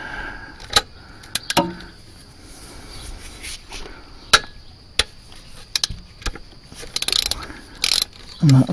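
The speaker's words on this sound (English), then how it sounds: "Right, so I'm going to pop the socket on there" A socket ratchet works on an alternator bolt of a Mercedes Sprinter van, heard as scattered close metallic clicks, clanks and tool knocks with quiet gaps between them, and a faint voice near the end.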